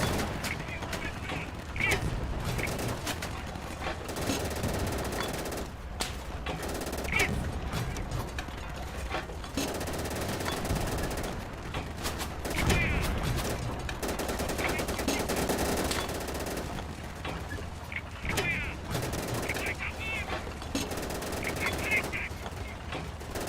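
A heavy mounted gun firing in the video game Easy Red 2, France 1940 battle, dense bursts of rapid gunfire running almost continuously amid other battle noise.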